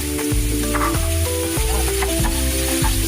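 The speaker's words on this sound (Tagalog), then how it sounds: "Sunod na po natin ang ground beef. Ayan po. Igisa lang po." Ground beef sautéing in a pan for baked macaroni, a constant sizzle with repeated scraping stirs of a utensil, close and loud with no talking.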